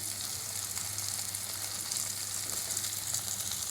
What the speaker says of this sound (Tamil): தேங்காய் பூ போட்டு நல்லா கிளறி விடுங்க.